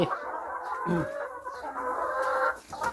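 Hens cluck steadily nearby in a henhouse, a drawn-out, warbling hen call continuing with a few softer clucks mixed in.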